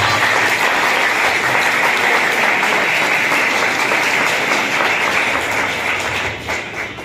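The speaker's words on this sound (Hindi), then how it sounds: "ये यीशु मसीह के जलाल के लिए तालियां हैं" A church congregation applauds for the glory of Jesus Christ, with loud, sustained, steady clapping that tapers off toward the end.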